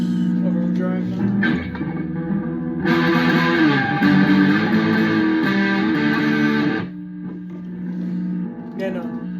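Electric guitar played through the overdrive channel of a Firefly FFST, a loud, buzzing, saturated tone that swells into a dense sustained chord in the middle before dropping back to quieter notes.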